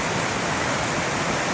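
Steady rushing roar of Michelle Creek waterfall on the North Umpqua Trail, a loud, constant wash of falling water heard up close, with no talking.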